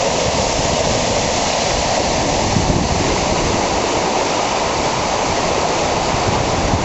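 Loud, steady rush of floodwater pouring along a swollen creek, a dense continuous roar with no pauses.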